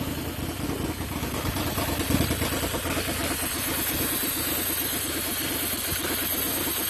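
An engine fitted with a 535 manifold runs steadily up close, a dense rumbling drone with faint rhythmic clatter, holding roughly level throughout with a slight swell near the middle.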